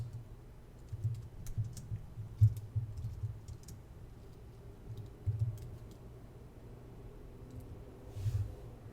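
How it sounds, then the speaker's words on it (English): An address being typed on a computer keyboard, quick irregular bursts of soft key clicks with short pauses between them, close and fairly quiet. "Click right here to search for a location, and I'll just type in the address."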